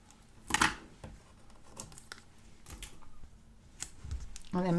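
Scissors snip through a kawaii paper sticker of a cup on a planner page, a few crisp cuts spaced apart at close range with faint rustling between them.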